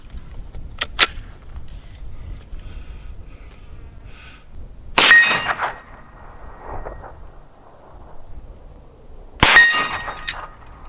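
Two loud metallic clangs ring out as 9mm rounds, 115-grain full metal jacket and Federal Syntech 130-grain, strike steel target plates at an outdoor range, each hit several seconds apart with a brief ringing tail.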